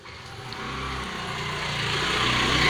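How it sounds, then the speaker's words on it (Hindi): A car engine runs as the vehicle is pulled out, a close, steady motor hum that rises gradually in loudness and pitch as it moves off. "गाड़ी निकाली इन्होंने।"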